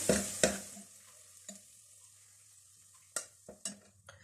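Onions browning to light golden in a pan on a stove, with a stirring spoon scraping and clattering in a few sharp bursts over a soft, steady sizzle, and quiet gaps in between.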